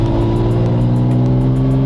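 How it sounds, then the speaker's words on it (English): A naturally aspirated V12 supercar engine revs loud and close, a steady deep multi-toned roar with rising and falling harmonics and a rhythmic pulsing hiss on top, with no talk over it. "There's nothing like a naturally aspirated V12. You just hear it breathing."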